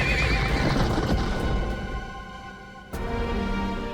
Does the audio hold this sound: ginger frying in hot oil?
no